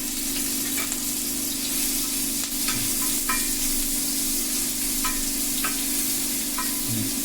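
Ginger garlic paste sizzles steadily in hot oil on a dosa pan, a continuous frying hiss with occasional stirring scrapes and clicks throughout.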